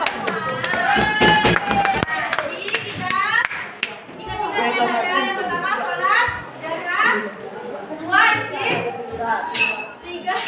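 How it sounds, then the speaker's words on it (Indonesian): Classroom students at a junior high school clap together, a burst of scattered hand claps mixed with children's chatter and a teacher's voice talking over the noise. "Tepuk tangan buat kita semua."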